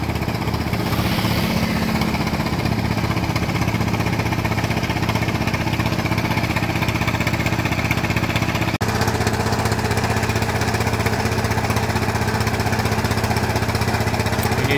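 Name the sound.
drilling rig boring into ground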